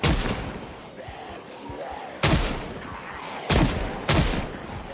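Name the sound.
gunfire from revolvers and pistols in a zombie video game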